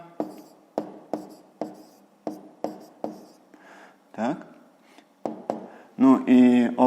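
A pen scratches out a series of short, evenly spaced strokes on paper, steady and close, with a brief voice near the end.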